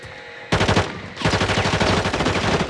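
Automatic gunfire rattles in a Call of Duty match: a short burst starts after a quiet moment and briefly stops, then rapid shots resume and keep going, loud and close.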